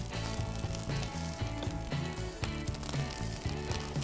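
Fried rice with green onion sizzling on a REC TEC grill's hot flat surface, a steady close crackle under rhythmic background music.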